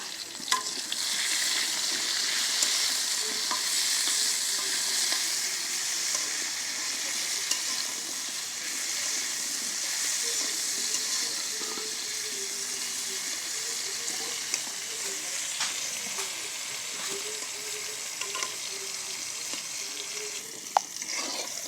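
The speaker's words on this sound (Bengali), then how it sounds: "দেখুন আমার কাঁচা কলা পুকুর সুন্দর করে আমি ভাজে নিচ্ছি" Raw green banana pieces fry in a pan with salt and turmeric, giving a steady, close sizzle with occasional stirring clicks for about twenty seconds and no talking.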